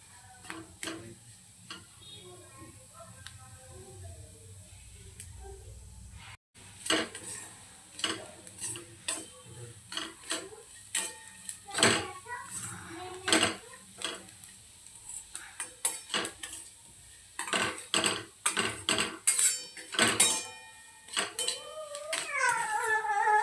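Rava being dry-roasted in a pan for upma, a spoon scraping and stirring with rapid irregular clicks and taps against the metal, close and fairly loud, with no talk.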